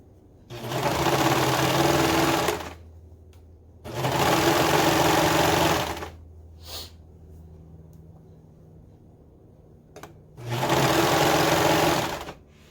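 Sewing machine stitching a hooded scarf where hood meets scarf, running in three loud steady bursts of a couple of seconds each, separated by quiet pauses with a few faint clicks.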